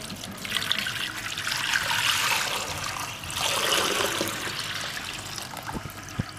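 A jug of water pours into a cooking pot for a trotters dish, a loud continuous splashing stream in two surges, close and alone without talk.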